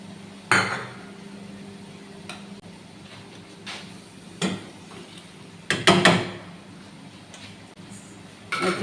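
Cooked pasta stirred with melted butter in a metal cooking pot for homemade koshary brings scattered clanks and scrapes of a utensil against the pot, a few sharp knocks separated by quieter pauses, with a cluster of clatter near the end.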